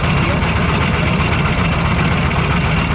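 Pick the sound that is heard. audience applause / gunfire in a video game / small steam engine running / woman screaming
small steam engine running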